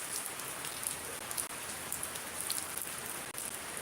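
Steady rain falls in Shariatpur, Bangladesh, a dense, even hiss of drops striking surfaces, close and continuous with no voices.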